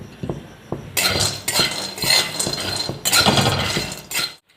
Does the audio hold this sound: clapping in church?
no